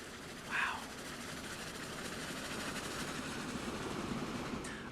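A Big Boy steam locomotive train rolls past in the Transport Fever 2 video game, a steady low rumble with rail clatter that continues unbroken and fairly faint, with a brief whistle-like tone near the start.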